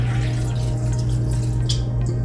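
Water runs steadily into a container of fruit and ginger for a juice drink, a continuous splashing pour with a constant low hum beneath it and a brighter burst near the end.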